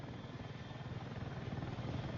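An AH-64 attack helicopter flies in the video game Battlefield 6, its rotor producing a constant fast thudding chop over a low engine drone, loud and steady throughout.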